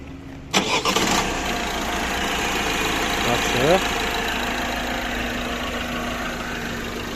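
A 2017 Citroen seven-seater with a 1.6 diesel engine cranks and catches abruptly, then settles into a steady, loud idle close by, with a brief rev rising partway through.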